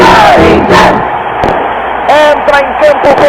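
Corinthians supporters of the Gaviões da Fiel roar and chant as the team enters Morumbi stadium, a loud, dense crowd cheer with whistles and bursts of fireworks under an announcer's voice.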